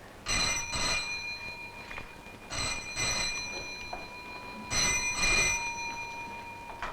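An old-fashioned telephone bell rings in a scene from the classic Hindi film Ittefaq, three separate bursts of bright jangling rings with short silent gaps between them, moderately faint against a quiet room.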